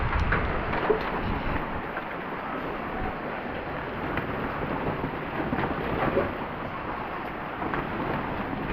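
Rain falls steadily outdoors, a dense continuous hiss that stays fairly loud throughout, with occasional gusty rumbles mixed in.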